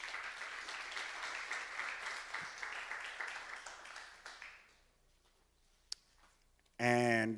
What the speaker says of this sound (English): Let's give a big round of applause to Ashwin.